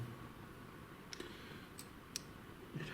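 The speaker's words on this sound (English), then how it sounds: "that clicking sound is just the thermal imaging camera refocusing" A thermal imaging camera clicks as it refocuses inside an old jail at night, several faint, sharp mechanical ticks spaced irregularly over a quiet background hiss.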